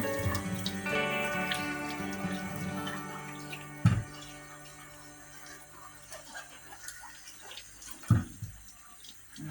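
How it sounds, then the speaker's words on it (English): Common hairy mangoes are washed under a running kitchen tap, with water pouring and splashing close by, a low hum early on and two sharp knocks of fruit against the sink. "So I'm washing them."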